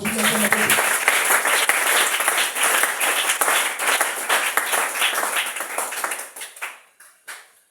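Church congregation applauding and cheering in praise of the Lord, dense sustained clapping that stays loud for several seconds, then thins into a few scattered claps before fading.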